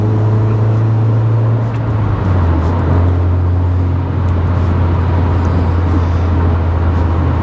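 A tuned 1.4 Rover Streetwise under test drive on a private estate gives a loud, steady, close engine drone with a low hum that shifts slightly in pitch partway through.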